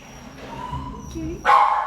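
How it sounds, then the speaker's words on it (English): Close by, an 8-year-old Blue Lacy female at a shelter lets out one sharp yip near the end, after a stretch of quiet low rustling and faint whining. "She is an 8-year-old Blue Lacy."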